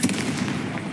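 A Confringo blasting spell fired in Hogwarts Legacy bursts out as one short, loud, crackling blast with a sharp start and a brief rumbling tail.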